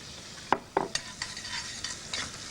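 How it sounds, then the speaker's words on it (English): Chopped onion fries in olive oil in a saucepan, giving a steady soft sizzle broken by a few sharp scrapes and clinks of stirring near the start. "we need to fry 1 chopped onion"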